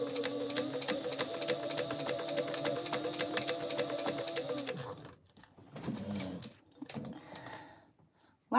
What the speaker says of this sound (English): I'm just going to top stitch right over the top of that